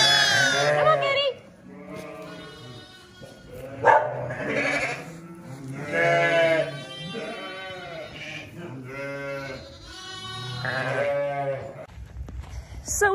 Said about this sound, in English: seeing all their sheep